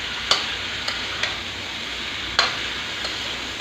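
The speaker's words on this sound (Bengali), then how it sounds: "সাজনাটা আমি 5 মিনিট কষিয়ে নেব ভালো করে।" Moringa drumsticks being stir-fried in a pan, with a steady hiss of frying and a few sharp clicks of a utensil against the pan.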